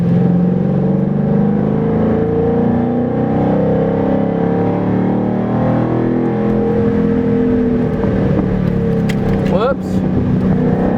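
A rally car powers out of a turn, its engine droning loud and steady from inside the cabin with road rumble and a co-driver's voice over it.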